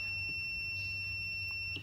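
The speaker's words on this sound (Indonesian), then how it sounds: "Ketika buzzer menyala, maka kabel masih berfungsi dengan baik." A digital multimeter's continuity buzzer sounds as its probe tips touch while checking a cable, a steady high electronic tone held for nearly two seconds and then cut off.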